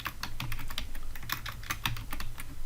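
Fingers typing an SQL query on a computer keyboard, a quick irregular run of close, crisp key clicks with short pauses between bursts, heard alone.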